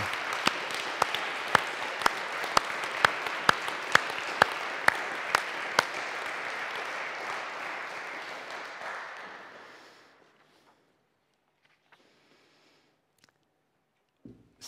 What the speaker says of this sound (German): Dürft ihr auch einen Applaus geben für das Spiel und alles.